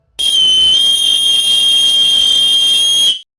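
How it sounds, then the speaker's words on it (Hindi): A shrill, steady whistle blast in an animated horror story, loud and close, holding one unbroken tone for about three seconds before cutting off, with nothing else heard. "दीपक होठों तक सीटी को ले गया"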